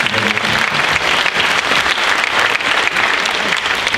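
Audience applause at a middle school spring band concert, honoring a student soloist; steady, dense clapping from a crowd fills the whole stretch at an even level without letup.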